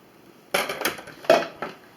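Kitchen knife cutting on a board, a few sharp knocks and scraping clicks in two short groups, close and clear with no talk.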